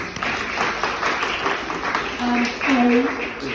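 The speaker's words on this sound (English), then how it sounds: "please give yourselves a round of applause" The cast and crew at a film Q&A applaud themselves in a dense wash of clapping that runs throughout. Voices and cheering mingle with the claps, and a few whoops rise near the end.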